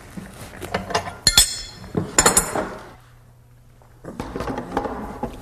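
A 1/4-inch shank router bit is fitted into a 1/4-inch collet, giving a few sharp, close metallic clinks and taps in short bursts separated by pauses.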